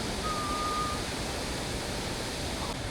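Crystal Cascades waterfall near Cairns, heard as a constant broadband rush of falling water from close by, steady and unbroken throughout.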